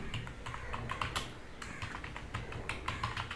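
Keys on a computer keyboard clatter in quick, uneven bursts of close, steady typing while a form is filled in, with short pauses between words and no voices.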